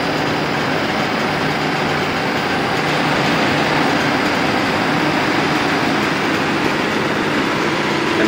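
Constant loud broadband hum and whoosh of a TCL air conditioner's compressor and blower running after an E6 error repair, steady throughout with no talk.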